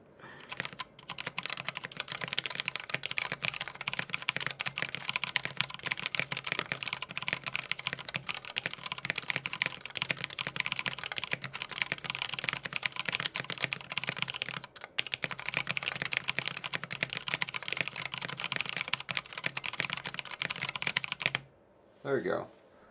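Continuous fast typing on a KBDFans Tofu 96 keyboard fitted with NK Creams switches and NP profile keycaps, a dense even clatter of keystrokes close to the mic that runs for about twenty seconds before stopping.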